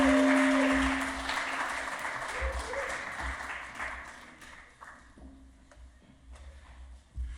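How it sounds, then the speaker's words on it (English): An audience at an award show claps and cheers, loud at first and then tapering into scattered applause that fades over several seconds. "a round of applause"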